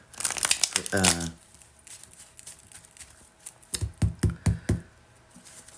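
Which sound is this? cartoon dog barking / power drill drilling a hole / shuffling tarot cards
shuffling tarot cards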